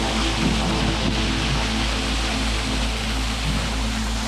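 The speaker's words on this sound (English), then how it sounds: "Waterfall just pouring right in here." A waterfall pours in remote Canadian wilderness, a loud, steady, close rushing roar of water filling the whole clip.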